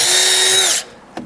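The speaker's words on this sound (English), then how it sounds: "We're gonna put 2 screws into each side again, pre-drilling and then using our 3-inch wood screws." A power drill whines loudly as it pre-drills a hole in a wood 2x2 for 3-inch wood screws, running steadily before spinning down, followed by a brief knock.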